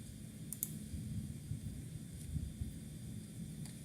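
A computer mouse clicks a few times at uneven intervals, faint and sharp, with a quiet room hum underneath.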